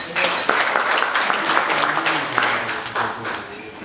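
A breakfast forum audience in a hall breaks into steady applause, dense overlapping claps at a constant level for a few seconds, with some voices mixed in.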